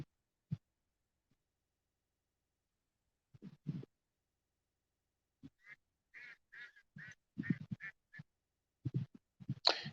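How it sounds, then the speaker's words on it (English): Several ducks quacking near a fishing spot, bursts of honking calls scattered irregularly against a quiet background, clustering into a busier run of quacks toward the end. "Y'all hear those ducks are still laughing at me."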